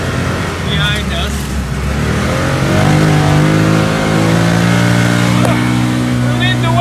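Can-Am Maverick X3 side-by-side held wide open through mud at a mud racing event, a loud, strained engine roar with rising and sustained revs, with excited voices shouting over it.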